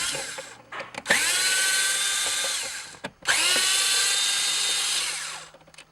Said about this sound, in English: there's two T20 Torx screws here. We're going to remove those.